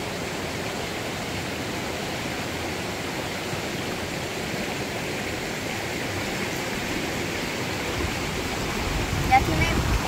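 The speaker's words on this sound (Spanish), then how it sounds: "Aquí me encuentro en un hermoso río y se los quiero mostrar." River water rushes in a steady, broad hiss of flowing current, constant and fairly close, with no break across the whole stretch.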